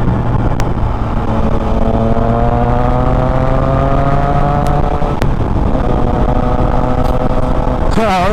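A Triumph Trident 660 inline-three motorcycle engine runs while riding in road mode, its exhaust note rising through several gear pulls with a steady, close drone, slight shifts in pitch, and sharp wind buffets.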